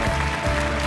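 Brief burst of studio audience clapping on The Voice Thailand following a battle-round singer, dense and continuous for under a second.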